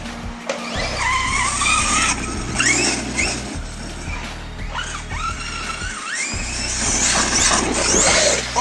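A radio-controlled car crashes hard after a jump on a backyard bashing course, with loud motor whine, revving and tire squeal surging and dropping close by across the whole stretch.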